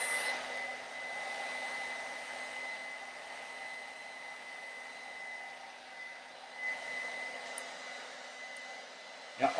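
A hair dryer blows steadily while hair is dried with a vent brush, a constant close whir that barely changes, with a few faint bumps and a clack at the very end.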